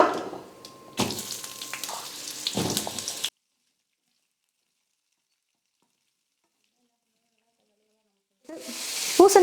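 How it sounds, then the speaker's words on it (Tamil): Pumpkin pieces hit a hot pan for a Tamil Pongal dish and sizzle loudly with stirring scrapes. After a stretch of silence, the frying returns briefly at the end. "இப்போ இந்த பூசணிக்காவை சேர்த்துடுறேன்."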